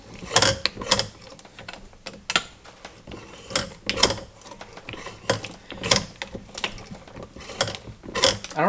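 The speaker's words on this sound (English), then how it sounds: "this machine keeps the tap perfectly straight" Repeated close mechanical clicks and ratcheting clacks from a Grizzly G8748 hand tapping machine threading a hole with a tap, sharp sounds in an uneven rhythm of pairs and bursts.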